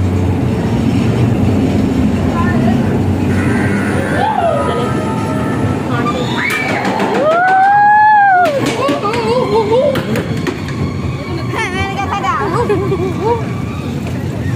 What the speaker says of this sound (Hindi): ये हमारी हॉन्टेड ट्रेन चल चुकी है